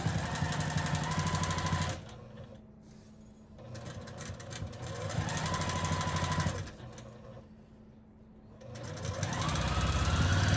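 Sewing machine stitching a diagonal-stripe quilt block, in three bursts of rapid, buzzing needle rattle separated by short quiet pauses, close and steady.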